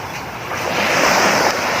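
Sea waves wash steadily onto a sandy beach shore, a loud, continuous surf roar with some wind rumble and no voices.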